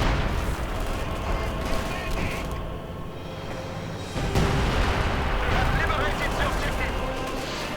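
Artillery fire covering a victory point in a multiplayer strategy game, dense rumbling booms and crackling blasts under a commentator's voice, growing heavier midway.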